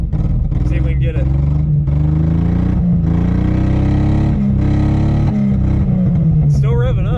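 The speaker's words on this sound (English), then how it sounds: "It's still revving up." A small engine running on vodka instead of gasoline revs loudly and continuously up close, its pitch rising and falling, with a person talking over it.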